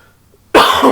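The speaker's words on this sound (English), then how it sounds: "I know coughs are loud on stream." One sudden, loud cough erupts from near silence, close to the microphone and sharp, from a streamer playing on a Minecraft realm.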